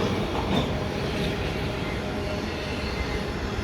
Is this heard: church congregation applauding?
no